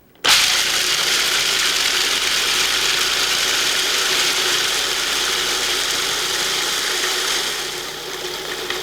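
A food processor with its metal blade chops peanuts in a Lexan work bowl, a loud, steady rattling clatter that starts abruptly and runs continuously, easing slightly near the end.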